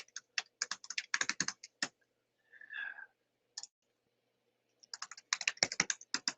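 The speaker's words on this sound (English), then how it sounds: "Let me finish what I was typing before people started joining the call." Rapid keyboard typing in bursts of quick clicks, a pause with a faint brief sound in the middle, then another flurry of keystrokes close by.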